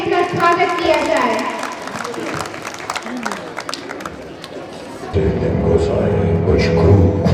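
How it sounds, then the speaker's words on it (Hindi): Audience applause welcoming performers at a school annual function, a dense clapping crowd swelling loudly at first, then music with a singing voice takes over partway through. "तो जोरदार तालियों से इनका स्वागत किया जाए।"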